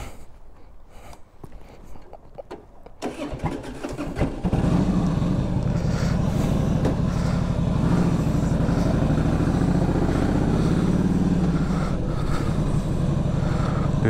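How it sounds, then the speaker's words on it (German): A Harley-Davidson motorcycle with a loud exhaust starts up nearby after some quiet handling sounds, then settles into a deep, loud, continuous rumble for the remaining ten seconds. "Ja, leise ist die Auspuffanlage nicht."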